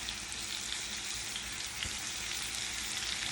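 Lobster pieces tossed in hot unsalted butter seasoned with sazon give off a steady, dense sizzle and frying crackle, close and continuous with no talking.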